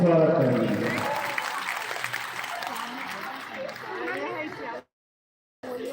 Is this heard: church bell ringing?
no